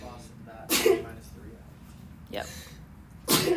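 Sneezes during a precalculus lecture: sharp, loud bursts occur several times, with a teacher's speech in between.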